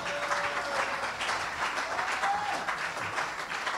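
A church congregation gathered for a conference applauds continuously, a dense wash of clapping from a crowd at moderate distance, steady throughout with some faint vocal sounds beneath.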